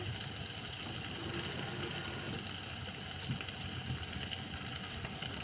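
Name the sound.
water added to frying pan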